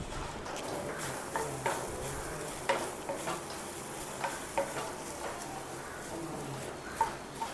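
A spoon stirs jackfruit thoran in a pan, scraping and turning it in a steady rhythm. Light sizzling and occasional sharp taps of utensil on metal sit under the stirring, and nobody speaks.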